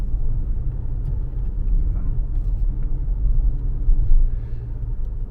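A car engine revs as the driver presses the accelerator, giving a deep, steady low rumble that swells slightly toward the end, heard from inside the cabin.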